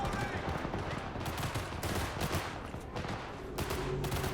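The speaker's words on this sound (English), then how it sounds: "Who are we shooting at?" Rapid automatic gunfire crackles in the video game Cyberpunk 2077, dense bursts of shots rattling continuously with brief gaps, under a player talking.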